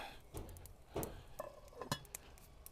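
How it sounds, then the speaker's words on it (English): A lid being set on a Dutch oven during a corned beef and cabbage cook, with a few light metallic clinks and knocks over a faint sizzle, close but quiet. "Now we're going to put the lid on the Dutch oven"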